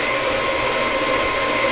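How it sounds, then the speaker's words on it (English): A stand mixer whirs steadily as it beats two eggs with a teaspoon of vanilla, a continuous close motor hum with no talk over it. "And I'm using a stand mixer, which you don't have to use."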